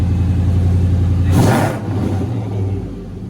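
A catless Dodge SRT8 with a 6.1 V8 revs once sharply from a deep idle, swelling to a loud, raspy roar before settling back to a rumbling burble, heard close.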